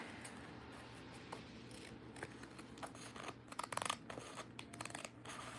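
Scissors cutting through a planner page, a series of faint, close snipping strokes that cluster more densely toward the end over a low hum.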